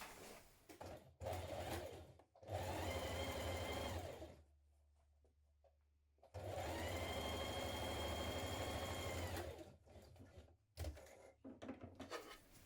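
Two long runs of a sewing machine finishing a velvet fabric edge with overlock or zigzag stitching, a close, steady whirring hum with a quiet pause between the runs and brief handling noises at the start and end.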